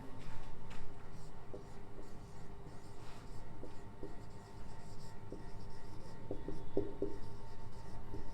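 Chalk or marker scratches across a board during a class 10 physics lecture on light, with short, intermittent strokes and taps over a quiet room hum and faint background noise.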